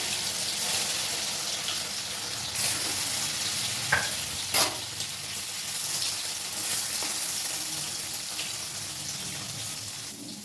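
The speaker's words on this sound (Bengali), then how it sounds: "পনিরগুলো আমি ভেজে দিলাম একটু হালকা করে পনিরগুলো ভাজবো" Paneer cubes frying lightly in hot oil over a low gas flame, a steady close sizzle with a few brief pops and stirring sounds, no voices.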